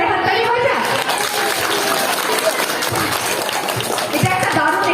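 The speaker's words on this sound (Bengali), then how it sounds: "তো একটু জোরে হাততালি হয়ে যায়" An audience at a stage show breaks into dense, sustained applause, a continuous wash of many hands clapping, with voices mixed in.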